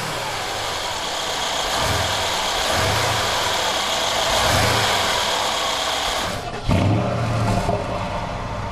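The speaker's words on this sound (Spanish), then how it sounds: "El corazón del vehículo es el motor más potente entre los utilitarios deportivos del mercado." A Mercedes ML 63 AMG sport utility vehicle engine runs with a steady, fairly loud mid-pitched drone, then shifts briefly near the end as the revs change.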